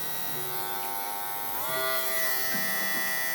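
An electric hair clipper running at 7500 rpm gives a steady, close mechanical buzz. Its pitch shifts and rises slightly about halfway through, and it plays alone with no voices.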